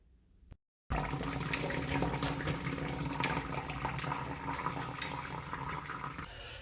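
Water draining from a pipe into a catch container during plumbing fixture work, a steady close splashing and trickling that starts abruptly after a brief silence and runs on continuously.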